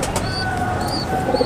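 Pigeons coo softly nearby in a loft of Rajasthani, Bajre and Kalsare breeds, with low repeated calls over a steady background hum and a few faint chirps.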